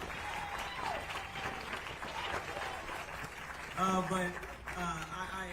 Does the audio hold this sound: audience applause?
yes